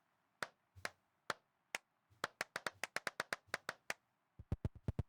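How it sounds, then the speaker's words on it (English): Sharp hand claps close by, a few spaced single claps that speed into a quick run, then a brief pause and another burst. "I'll just stand right here and clap."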